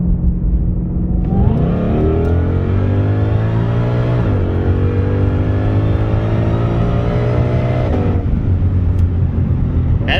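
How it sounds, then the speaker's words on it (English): A 2020 Ford Shelby GT500 with a ported supercharger, upgraded pulley and dyno tune roars through a hard pull from a roll, its loud engine note climbing steadily in pitch and sweeping through gear changes. "We'll try about a 40 roll and see if it'll hook up."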